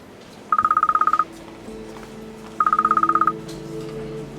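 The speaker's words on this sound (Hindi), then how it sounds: "और खान साहब के फोन पर कॉल आ रही है।" An electronic mobile phone ring for an incoming call trills in two short bursts with a pause between, over soft background music.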